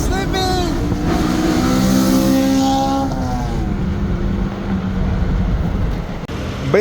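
K-swapped Honda EM1 engine revving loudly up close, climbing in pitch and then settling back, with a steady roar throughout and no pause.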